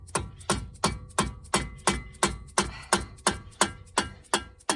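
Loose brake bolts on a car are broken free with a steady series of about fifteen sharp, evenly spaced metallic knocks, close and loud, with no talk.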